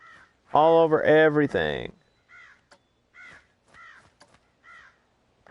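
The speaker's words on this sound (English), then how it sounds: "Crows, loud ones, squawking everywhere." Loud crows caw in the Planet Coaster video game, a series of harsh, evenly spaced calls following a burst of speech at the start.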